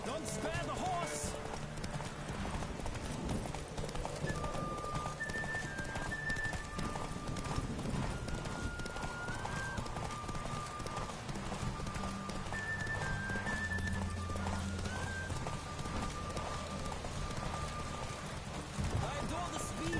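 Horse Roach racing in The Witcher video game, a rapid steady clip-clop of hooves at a gallop under game music, with occasional whinnies and voices talking over it.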